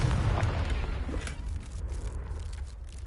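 The Confringo fire-blast spell detonating in Hogwarts Legacy: a deep, heavy boom at the start that rolls off into a fading rumble and crackle over about three seconds.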